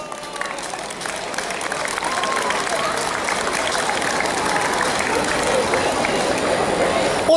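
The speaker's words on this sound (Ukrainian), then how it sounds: "Ваші оплески!" Sustained, dense applause from a crowd at a school's first-of-September ceremony in Vinnytsia, steady and full for the whole stretch, with faint voices mixed in.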